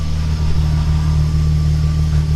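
Volkswagen car engine and exhaust running, heard from behind the car: a steady low idle drone with a constant deep hum, loud and unbroken, no talk.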